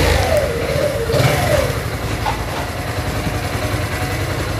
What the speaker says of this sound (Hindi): और चलें अभी बाइक को थोड़ा स्टार्ट करते हैं, आपको साउंड भी चेक करते हैं